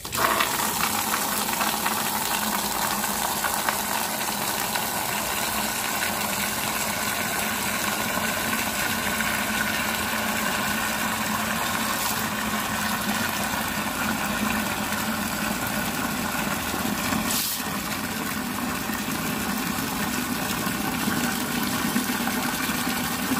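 Water runs steadily from household taps fed by a pump from a half-full tank, a continuous hiss and rush with a faint motor hum underneath, briefly sputtering as air escapes the line.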